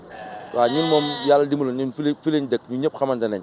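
Sheep bleat at a sheep pen by a livestock market, a string of loud, close, wavering calls overlapping one another with no gaps.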